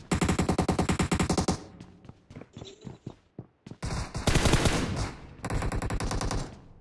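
Rapid automatic bursts from an M416 rifle in the BGMI mobile battle game, loud and close, firing in long sustained volleys broken by a short gap of scattered single shots.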